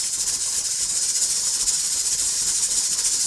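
A ham and vegetable egg omelet steams in a pan, producing a steady, bright hiss that continues evenly throughout without any talking.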